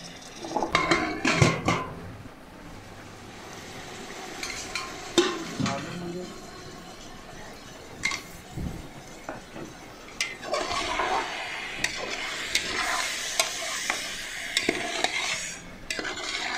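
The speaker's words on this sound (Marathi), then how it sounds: "आता ह्या चिकनला पण ह्या कांदा आणि टोमॅटो बरोबर व्यवस्थित भाजून घ्यायचं आहे" Chicken frying in a pan with onion and tomato for a dum biryani, stirred with a spoon: intermittent scraping and clanking against the pot over a soft sizzle, close up.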